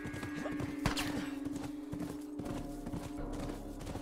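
Horse hooves clip-clop at a steady gallop in The Last of Us video game, moderately close over a low, humming background with a few sharper thuds.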